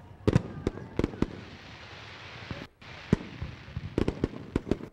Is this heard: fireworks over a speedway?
yes